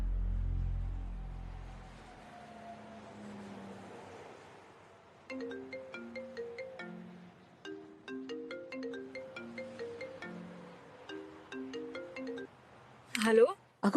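A phone ringtone plays a repeating melodic tone pattern in a home, loud and clear for several cycles after a brief low rumble at the start, ending with a sharp click.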